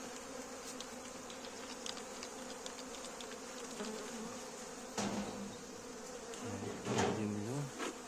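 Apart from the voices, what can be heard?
honey bees buzzing at an opened hive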